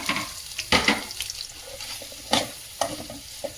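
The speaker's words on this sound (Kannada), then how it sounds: "ತುಪ್ಪದಲ್ಲಿ ಹುರ್ಕೊಳ್ತೀನಿ" Paneer cubes frying in a pan of ghee and oil, with a light sizzle under a few sharp, irregular stirring scrapes and clatters close by.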